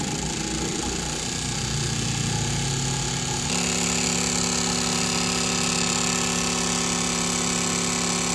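A fuel injector cleaning and balancing machine pulses Toyota single-shot injectors at high RPM, giving a loud, steady buzzing drone that shifts to a higher, denser pitch partway through and runs continuously with no talk.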